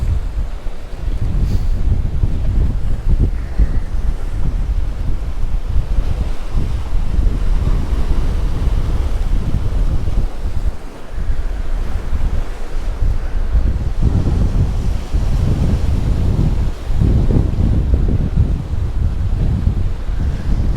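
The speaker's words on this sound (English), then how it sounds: "It is very windy." Strong wind buffeting the microphone by the sea at Palmanova, Mallorca, a continuous low rumbling roar with gusty surges and waves washing underneath.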